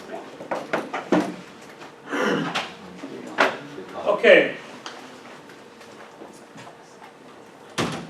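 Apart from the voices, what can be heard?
door being closed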